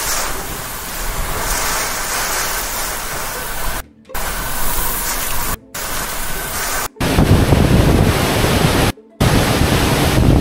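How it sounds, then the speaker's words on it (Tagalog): Hurricane Beryl's heavy wind roars with rushing rain, a loud, constant storm wash broken by a few brief cutouts. "Makikita nyo mga sangkay yung ulan at hangin na napakalakas"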